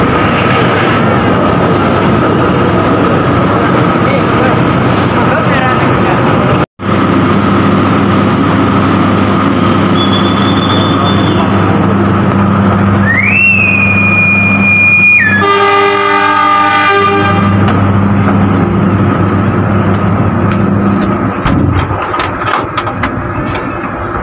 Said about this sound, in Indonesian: Kereta api komuter lain Doho kembali diberangkatkan dari jalur